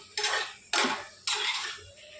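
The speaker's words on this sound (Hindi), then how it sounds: "फिर हम इसमें मिक्स करके भी पकाना है इसे" Three scraping strokes of a spoon stir spiced potatoes in a cooking pan, evenly spaced and close by, with a faint sizzle in the quiet gaps and no talk.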